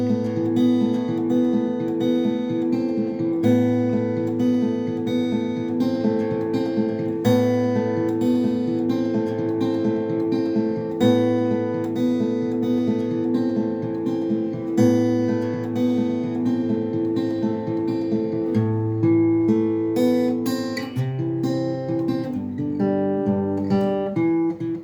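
A song is played as sustained, layered chords and melody, loud and continuous, with a shift to lower, shorter notes near the end.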